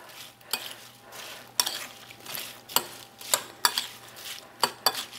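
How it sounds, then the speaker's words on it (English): A spoon stirs a filling of white raisins, almonds and nutmeg in a bowl, producing soft scraping swishes broken by sharp clinks against the dish at an irregular pace, close and fairly quiet, with no talking. "I'll stir that together"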